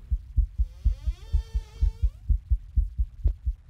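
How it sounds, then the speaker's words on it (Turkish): A heartbeat in a horror video game thumps in a steady, fairly quick double-beat rhythm, close and dominant, while an eerie rising and falling tonal drone sweeps over it for a couple of seconds. "Benim adam birazdan kalp krizi geçirecek biraz daha kalbi atarsa."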